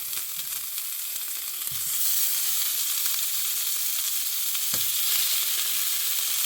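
Precooked ham crisps in a Smithey cast-iron farmhouse skillet with a steady, loud sizzle that swells after a couple of seconds, with two soft knocks of the food being moved in the pan.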